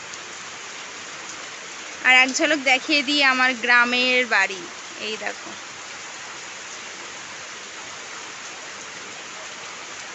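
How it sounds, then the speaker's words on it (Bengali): Steady rain falls outside a small village house on a monsoon day, an even, close hiss throughout; a person speaks briefly over it early on. "দেখো বৃষ্টি, মুষলধারে বৃষ্টি হচ্ছিল, কিন্তু এই মুহূর্তে কমে গেছে"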